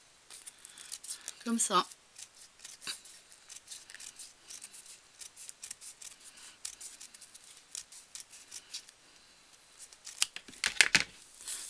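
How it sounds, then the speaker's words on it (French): Scissors snip a small leftover piece of material in two during a craft project, a few close, quiet cuts and rustles scattered through the clip while someone talks in French. "vous allez le prendre et vous allez le couper en deux"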